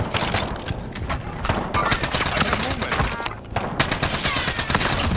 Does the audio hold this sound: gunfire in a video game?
yes